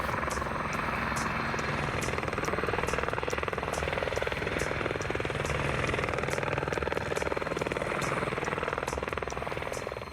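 Mountain rescue helicopter hovering over rugged high country during a winch operation, a loud continuous rotor thump and turbine whine throughout with no talking.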